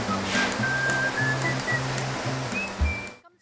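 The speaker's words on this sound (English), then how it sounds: "we are visiting the Tung Chai Waterfalls, one of Hong Kong's four natural wonders" Ng Tung Chai waterfall in Hong Kong, a steady rushing roar of falling water heard fairly close, with a soft repeating music line and a few birdlike whistles over it before it cuts off.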